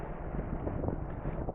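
Strong winter wind buffets the microphone in a constant low roar on the mountain Ben Wyvis, gusting and rumbling throughout.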